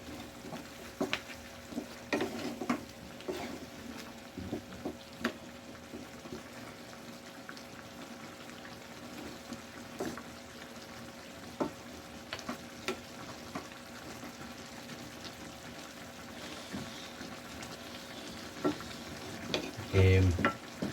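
Batangas caldereta is stirred as it fries in a pan, giving a continuous bubbling sizzle with irregular scrapes and taps of the spoon throughout and a louder clatter near the end, close-up, with no talking.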